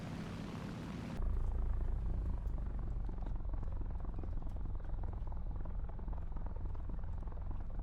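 Engine of an Ilyushin IL-8 ground-attack aircraft landing in a video game, a loud continuous propeller drone that starts abruptly after a quieter opening second and holds steady throughout, with no speech.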